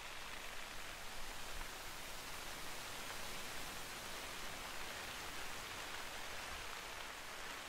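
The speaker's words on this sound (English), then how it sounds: "Can you guys hear this rain?" Heavy, steady rain in the hunting game The Hunter: Call of the Wild, a constant hiss of drops pouring down without a break, alone with no voices.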